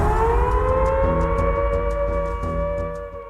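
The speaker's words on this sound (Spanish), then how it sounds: "una sirena comenzó a sonar alrededor del campo de prisioneros" A civil-defense-style siren wails around a prisoner-of-war camp, holding a loud, sustained rising tone that sweeps slightly and then begins to fade toward the end, with faint rhythmic pulses beneath it.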